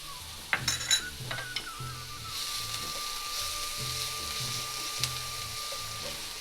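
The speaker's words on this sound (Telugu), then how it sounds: "పచ్చివాసన పోయే వరకు వేపుకుందాము." Onions fry in hot oil in a pan, giving a soft continuous sizzle under a few close metallic stirring knocks and clinks, with no one speaking.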